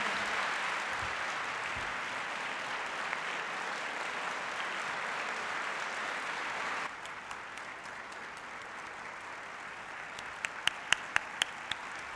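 Sustained audience applause in a hall after a spiritual talk by Pujya Gyanvatsal Swami, a dense steady roar that drops to a softer wash of clapping partway through, with a few sharp individual claps near the end.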